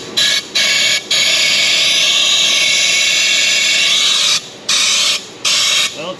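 Compressed air blasts loudly through a Chevy Cobalt car part in a garage, one long steady hiss followed by several short bursts with brief pauses between them.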